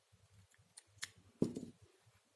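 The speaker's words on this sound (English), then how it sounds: "we will cut this yarn" Scissors snip through crochet yarn after a finished coaster, giving a few quiet, brief cuts followed by one louder, closer snip.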